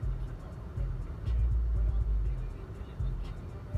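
A car driving, with a steady low engine and road rumble from inside the cabin and a faint voice in the background.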